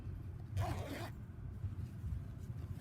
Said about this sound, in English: So now we'll close it up.